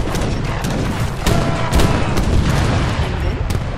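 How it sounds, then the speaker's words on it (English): A massed volley of cannons fires at once in Age of Empires 3 Definitive Edition, producing loud overlapping booms and cracking blasts in irregular bursts across a busy battle din. "Send 50 cannons and they shoot them all at once."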